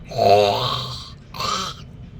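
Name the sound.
person imitating a tiger growl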